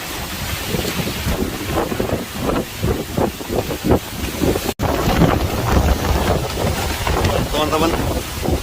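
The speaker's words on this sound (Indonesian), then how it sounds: "Cukup kencang anginnya teman-teman." Strong storm wind at an island campsite buffets the microphone in loud, continuous gusts, with a roaring, rushing texture and a brief dropout midway.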